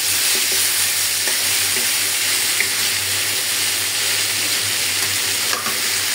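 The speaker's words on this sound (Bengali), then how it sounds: "হালকা করে একটু ভাজতেছি।" Vegetables coated in ground spice paste fry lightly in a pan, a loud, continuous close-up sizzle that stays even from start to finish, with faint stirring clicks and no speech.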